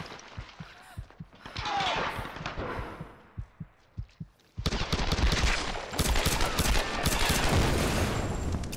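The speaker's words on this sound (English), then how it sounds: "How is he shooting me?" Enemy gunfire from the Tomb Raider Definitive Edition game comes as a scattered run of sharp shots, then dense, loud bursts of rapid fire. A person talks over the opening part.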